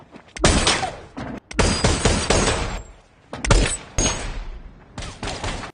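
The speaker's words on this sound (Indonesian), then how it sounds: "Untungnya tembakan Walkman meleset tapi membuat Jesse bersedia untuk pergi" Bursts of video game gunfire, loud rapid volleys of shots broken by short pauses, close and sharp with no voices.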